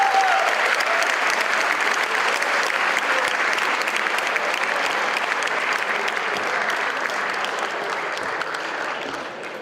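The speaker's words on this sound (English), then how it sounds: "Please welcome Mr. M.J. Akbar with a warm round of applause as I invite him to come to the stage and speak for us" Sustained audience applause greets a speaker being welcomed to the stage at APOGEE 2016, a dense, steady roar of clapping that holds loud for the whole stretch and eases slightly toward the end.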